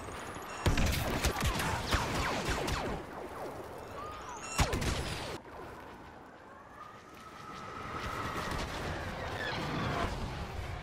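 Frag grenade explosions in the Star Wars Battlefront beta, Supremacy mode on the Outpost map: sharp, booming blasts mixed with crackling battle noise, one near the start and another heavy burst around the middle, then a rumbling lull.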